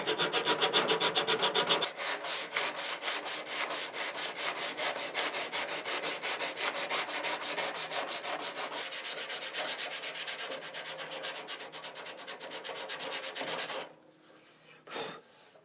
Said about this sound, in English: you got this little mini sanding block, right? And you do this, just like you would the sanding block